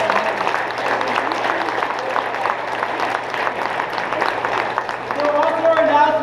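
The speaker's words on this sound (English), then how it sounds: "So we'll give them one final round of applause" A hall full of people at a year's final practice night breaks into steady, dense applause that holds at an even level, swelling slightly near the end with a few voices mixed in.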